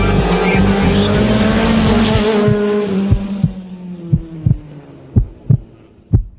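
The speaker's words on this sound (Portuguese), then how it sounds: "Barulho na direção do i30." Hyundai i30 steering noise: a continuous rough whirring drone that fades, followed by a series of sharp low knocks and clunks at irregular intervals, close and loud, with no talking.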